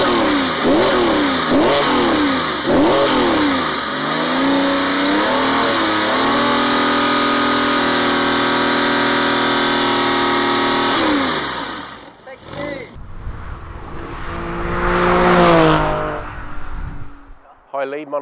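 Porsche 996 with an aftermarket exhaust revving: a steady, loud engine drone with rising and falling rev sweeps, then a sharp blip and a second climbing rev near the end, with voices talking underneath.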